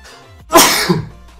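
A single sharp sneeze bursts out close and loud after a brief quiet moment, then fades quickly, with no speech around it.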